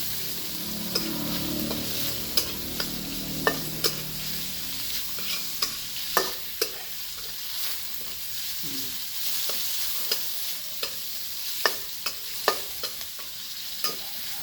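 Pork and garlic stir-fry sizzling in a hot pan, with a steady frying crackle under repeated sharp scrapes and clacks of a spatula stirring the meat, and no talking.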